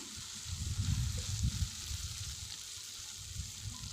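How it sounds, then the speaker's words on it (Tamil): Vegetable gravy masala sautéing on a low flame makes a soft, continuous sizzle with low bubbling and stirring rumbles, close but fairly quiet, and no one speaks. "கொஞ்சம் பச்சை வாசனை போகிற வரைக்கும் வதக்குங்க லோ ஃப்ளேமில் வச்சுட்டு வதக்கலாம்"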